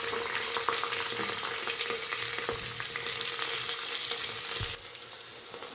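Onion fries in oil mixed with pulao masala in a pan, making a dense, even sizzle with scattered pops and stirring scrapes. The sizzle drops abruptly toward the end, with nobody talking.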